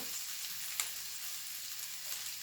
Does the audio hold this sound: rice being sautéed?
yes